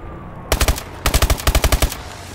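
Submachine gun fire in the Call of Duty Advanced Warfare video game: two loud, close bursts of rapid shots, a short one followed by a longer string of about a dozen rounds, with brief quiet before and after.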